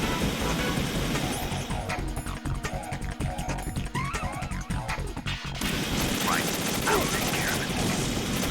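Rapid bursts of gunfire in the stealth action game Metal Gear Solid 2: Sons of Liberty, dense crackling shots running through the whole stretch with a brief lull midway, while a voice speaks over it.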